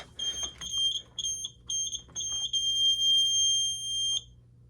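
A Simplex 4100ES fire alarm system in a basement sounds, its shrill tonal horn pulsing in short repeated bursts, then holding a longer steady tone before it cuts off.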